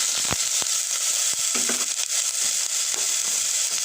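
Ginger and onion frying in a pan for beef macaroni soup, a loud continuous hiss and sizzle with occasional crackles and stirring knocks, close up with no talking.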